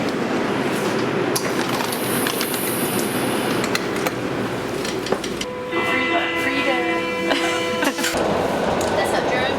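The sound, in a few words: Berlin subway train riding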